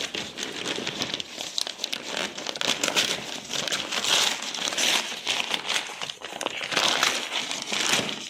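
Taped shoe package being opened, with dense continuous crinkling and crumpling of plastic or paper wrapping throughout, close and fairly loud, no talking.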